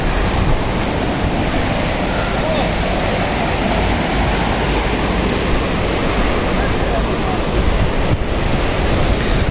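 River water rushing beneath a bridge near the Dasu Dam construction site in Kohistan, a steady loud broadband roar with no breaks, wind buffeting the microphone throughout.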